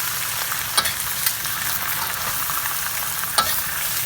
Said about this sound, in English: our wok is really hot, because we're not gonna overcook our bok choy. Basically, we're just searing it.